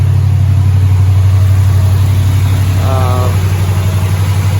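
An Impala SS V8 engine idles steadily at an elevated speed, a constant low rumble that runs the whole time with a brief higher tonal whine partway through.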